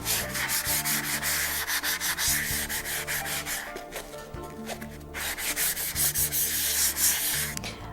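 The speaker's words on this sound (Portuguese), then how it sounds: "Vamos iniciar lixando toda a peça." Sandpaper rubs back and forth over a wooden picture frame in steady, rhythmic strokes, close and clear, with no talking.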